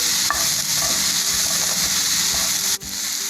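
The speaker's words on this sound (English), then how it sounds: "Saute it for 1 to 2 minutes." Coconut pieces sauteing in a pan for a South Indian dish, a steady loud sizzle with scraping stir strokes running throughout and a brief dip near the end, no voices.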